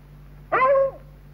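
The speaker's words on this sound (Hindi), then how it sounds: "इस कुत्ते को देखो" A single short dog vocalisation, a whine or yelp lasting under half a second, sounds alone over a steady low hum in an old Hindi film scene.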